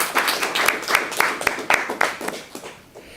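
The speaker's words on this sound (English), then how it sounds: "He'll be pleased to know that you clapped" Audience at a symposium clapping after a talk, a short patter of applause from a modest crowd that thins out and fades within a few seconds.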